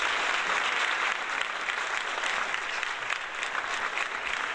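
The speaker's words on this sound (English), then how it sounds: "Give me some more applause up in here" Steady, dense applause from a crowd, many hands clapping continuously at an even, loud level throughout.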